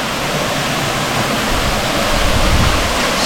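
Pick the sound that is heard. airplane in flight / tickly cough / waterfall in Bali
waterfall in Bali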